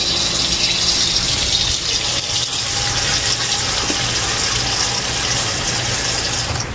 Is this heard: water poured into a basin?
yes